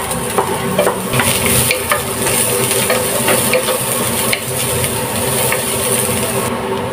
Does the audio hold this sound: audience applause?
no